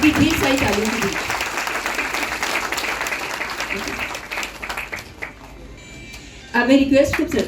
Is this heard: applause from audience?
yes